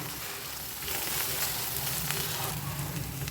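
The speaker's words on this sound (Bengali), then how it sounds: "মশলাটাও ভালোভাবে ফ্রাই হয়ে গেছে" Spices sizzle and fry in a pan as the base for a paneer dish, a steady close hiss that runs the whole time with no talk over it.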